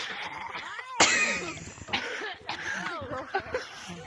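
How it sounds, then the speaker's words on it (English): A man coughs in a harsh, sudden burst followed by rougher hacking, close by, with voices and light laughter around him. "he's still coughing."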